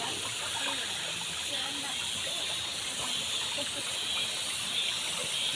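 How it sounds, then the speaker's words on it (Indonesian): Clear mountain spring water flowing through the forest of Mount Sawal makes a constant, dense rushing hiss that holds steady and close throughout. "Air ini berasal dari atas gunung sana sahabat ya"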